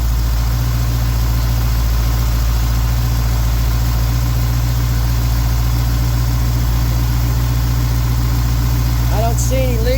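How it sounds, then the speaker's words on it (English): A car engine idles steadily after a Holley carburetor install, a loud, continuous low rumble with an even hum throughout and a brief fainter sound near the end. "The idle speed's pretty good. I'm going to bump it up a little bit."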